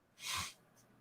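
A single short sneeze from a person, fairly close but soft, a breathy burst followed by near silence.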